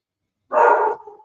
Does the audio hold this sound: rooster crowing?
no